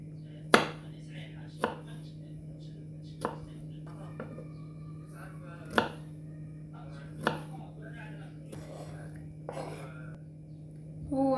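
A knife chops cucumber in separate, sharp cuts, about seven or eight strikes spaced a second or more apart over a steady low hum, close and clear.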